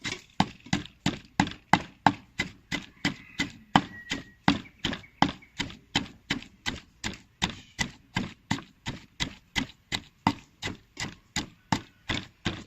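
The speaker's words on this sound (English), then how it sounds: "smash this first." Ingredients for Cambodian-style grilled mackerel are smashed by hand with a steady run of evenly spaced, sharp pounding strikes, close and alone, with no talking.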